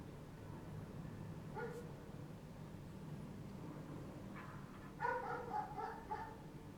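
A dog barks and yelps in short bursts, with one early yip and a cluster of barks toward the end, heard at moderate distance over a steady low background hum of music.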